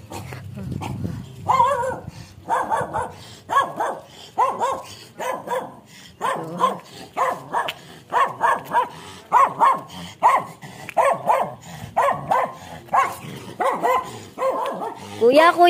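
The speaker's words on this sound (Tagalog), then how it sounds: "Ang daming aso dito." Many dogs bark at a residential lot in Bocaue, Bulacan, giving loud, dense, overlapping barks that go on throughout, close by, while someone talks over them.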